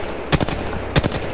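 Two quick bursts of gunfire from a weapon in Apex Legends, each a tight double crack, loud and close over a steady game background.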